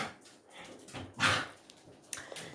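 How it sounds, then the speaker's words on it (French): Dogs barking excitedly indoors after coming back inside, a few short yips and barks scattered through the clip, one louder burst near the middle, moderately close with no talk. "Les chiens sont un petit peu énervés."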